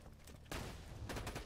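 A machine gun fires in the shooter game Borderlands 2, two quiet, rapid rattling bursts heard at a distance, separated by a short pause.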